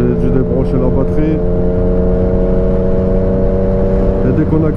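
A Yamaha MT-09 motorcycle engine pulls under gentle acceleration, a steady, loud, close droning hum with a few faint voice traces near the start.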